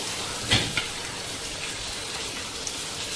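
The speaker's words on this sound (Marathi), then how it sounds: "आपण बघा स्वच्छ आतून धुवून घेतले." Fish being rinsed clean inside and out, a steady wet hiss of water with a couple of brief splashy knocks near the start, moderately close and without voices.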